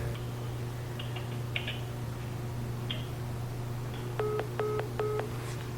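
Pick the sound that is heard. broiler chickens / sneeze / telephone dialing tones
telephone dialing tones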